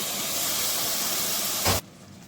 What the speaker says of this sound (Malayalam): വെള്ളം ഒന്ന് തിളച്ച് വന്നിട്ടുണ്ട് കേട്ടോ